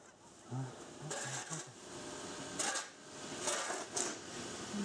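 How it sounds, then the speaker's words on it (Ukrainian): Several short, distant honks from Canada geese passing overhead in winter, scattered irregularly over a few seconds against a noisy outdoor background, in Portland, Oregon. "Там гуси летять над моєю хатою. Шукають воду."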